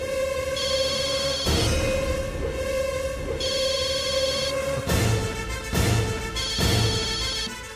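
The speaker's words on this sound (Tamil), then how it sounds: "அம்மா ஃபோன் பண்றாங்க." Telephone ringing in bursts: a bright electronic ring repeats several times with short gaps, loud and close, alone with no speech.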